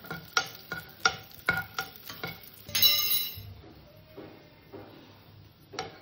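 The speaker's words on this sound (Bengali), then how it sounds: "কাজু আর কিশমিশ দুটোকে ভেজে আমি তুলে নেব" Cashews and raisins frying in ghee in a pan, with a series of sharp spatula taps and scrapes against the metal over a soft sizzle that then settles into quieter stirring.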